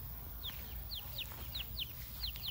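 Silkie and Showgirl chicks and chickens give a string of repeated short, high clucking peeps, each note sliding downward, over a steady low background hum.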